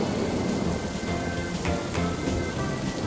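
Steady rain pours throughout a Peppa Pig cartoon scene, a constant loud hiss with low rumbling thunder rolling underneath and a couple of brighter crackles, no voices.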